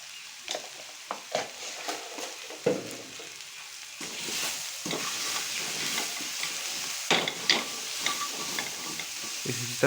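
Onions frying in a karahi with chili-ginger-garlic paste and salt, stirred with repeated scraping strokes over a steady close sizzle, no voices.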